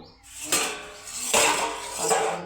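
Small steel bowls clink and knock together three times in a home kitchen during egg cooking, each contact a bright metallic ring that decays slowly; no talking.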